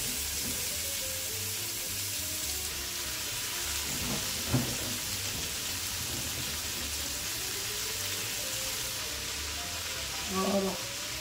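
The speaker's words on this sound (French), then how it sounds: "on va faire tomber nos oignons doucement, on va essayer de ne pas donner de coloration" Onions softening gently in a pan without browning, a soft, even hiss running throughout with a few faint stirs and a brief clink near the end.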